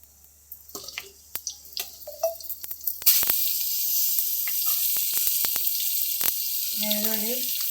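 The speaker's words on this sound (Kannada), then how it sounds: "ಈರುಳ್ಳಿ ಹಾಕ್ತಾಯಿದ್ದೀನಿ" Chopped onions hit hot oil in a pan for paneer butter masala, setting off a sudden, steady sizzle that holds to the end, with a voice and light kitchen clatter before it.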